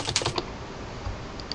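Rapid keystrokes on a computer keyboard while entering a web address, a quick cluster of clicks followed by a pause and a couple of later taps, close and moderately loud.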